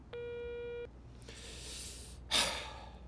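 A single short electronic telephone tone from a call to a switched-off phone, steady for under a second, followed by soft breathing and a sharp sighing exhale close by.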